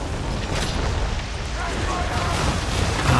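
Naval cannon fire rumbles during a sea battle in Assassin's Creed III, a dense, loud, continuous low roar of booms and blasts with no clear gaps.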